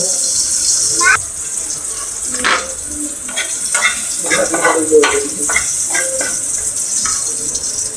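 Adobo sizzles and fries in a pan, a steady hiss carrying clattering stirring bursts throughout, with voices talking over the cooking.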